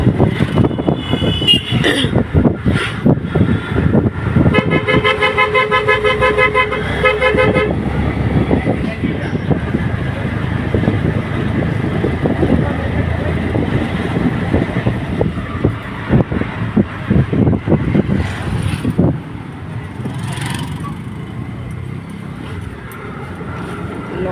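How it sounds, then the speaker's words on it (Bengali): Ride inside an auto-rickshaw heading to Garia station, with a steady engine and road rumble throughout, repeated horn toots from nearby traffic, one long sustained honk, and occasional voices mixed in. "এখন অটোতে করেছি অটোতে বসে আছি যাচ্ছি স্টেশন"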